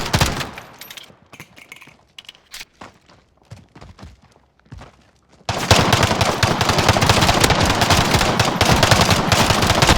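Dual pistols fire in Call of Duty during a tournament match, first as scattered sharp shots and footsteps, then as a sudden loud, dense, continuous barrage of gunfire that runs to the end.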